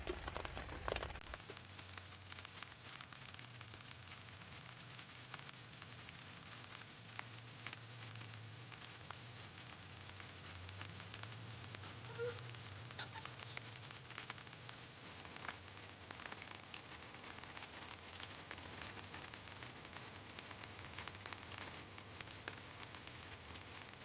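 Steady rain pattering down on a vegetable garden abroad, a dense, even hiss of drops that keeps on without break, close and moderately loud, with no voices.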